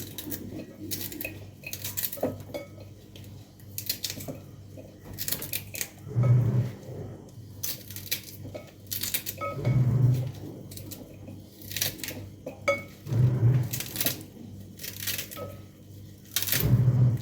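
Dishes, pots and cutlery clatter in a home kitchen while washing up and cooking go on at once, with irregular close clinks and scrapes over running background noise and a low repeating hum.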